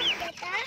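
Hens cluck and squawk close by in a short, lively burst, with overlapping calls that rise and fall.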